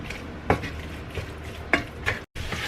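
Ground beef browning in a pan gives a steady low sizzle, with a few sharp stirring scrapes and clinks breaking through now and then. A brief gap of near-silence falls near the end.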